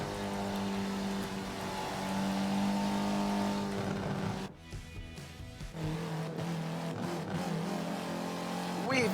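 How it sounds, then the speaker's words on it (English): A race car engine from a racing video game on the reverse Mountain Circuit in Dubai holds a loud, steady drone with the clutch fluttered. It drops out briefly mid-clip, then resumes close and continuous with faint commentary underneath. "Fluttering the clutch."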